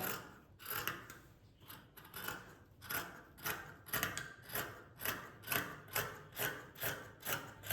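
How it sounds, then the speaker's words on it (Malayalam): Scissors snip through fabric pieces cut out for a nightie, in a steady rhythm of about a dozen crisp close cuts, each with a sliding metallic rasp, heard alone. "ഈ ഒരു രീതിയിൽ ഇങ്ങനെ പുറത്ത് കട്ട് ചെയ്തിട്ട് എടുക്കുക"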